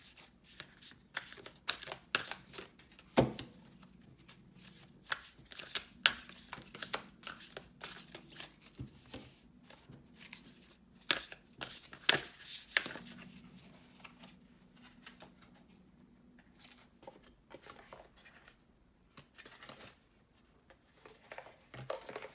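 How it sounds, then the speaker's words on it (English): Oracle cards are shuffled by hand in quick, soft riffling bursts with papery crinkles, faint and close, repeating irregularly without talk. "I'm going to pull an oracle card."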